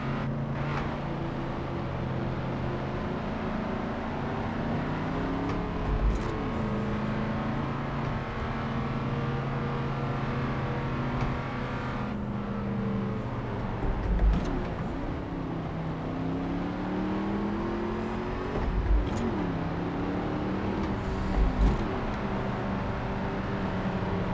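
Porsche engine humming steadily while driving in the racing game The Crew, a continuous mid-level drone with a few brief rises in revs and occasional bumps, no talk.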